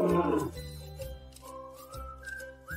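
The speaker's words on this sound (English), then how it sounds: "Lion." A lion gives one loud, deep roar at the start, followed by background tones and whistle-like sounds of a children's song.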